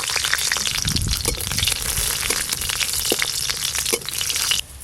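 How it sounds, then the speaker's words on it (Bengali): Garlic cloves and dried chilies fry in hot oil with a steady, close crackling sizzle that runs the whole time, broken now and then by the scrape and knock of stirring. "এই তো রসুন ভাজা"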